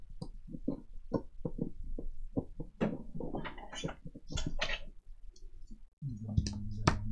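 Paper being cut off for an art journal: a quick series of crisp, close snips and rustles, followed by a low steady hum near the end.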